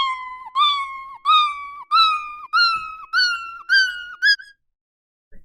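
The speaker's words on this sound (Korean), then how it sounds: "끝까지 야옹이 10만큼 올라가는 것을 확인하실 수가 있습니다" A synthetic cartoon cat meow repeats about seven times in a steady loop, each repetition stepping slightly higher in pitch, clean and alone before stopping into silence.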